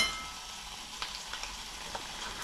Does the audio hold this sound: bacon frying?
yes